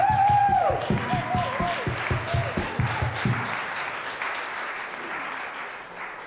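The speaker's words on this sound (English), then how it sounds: "Big applause!" Audience applause and cheering at a comic dance show, starting over a loud musical sting and rhythmic beat, then settling into steady clapping that slowly thins out.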